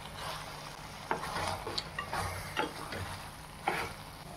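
Butter sizzling in a pan of bhindi butter masala while a spoon stirs it, producing a steady frying hiss punctuated by a few scraping stirs.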